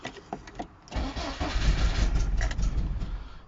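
A Talbot Express van engine cranks over and over without catching, a steady churning starter drone that swells loud after a brief lull, suggesting a possible fuel problem at the carburettor.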